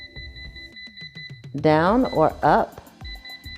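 Short, evenly spaced electronic beeps from a 6-quart air fryer control panel, with a faint sustained tone, then a person speaks briefly over it.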